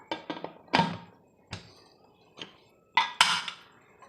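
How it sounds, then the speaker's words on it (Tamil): A series of sharp metallic knocks and clatters, several spaced taps then a louder clang and rattle, as a lid is set onto a cooker holding eggplant kadayal. "இப்போது நம்ம மூடி போட்டு முடிக்கலாம்"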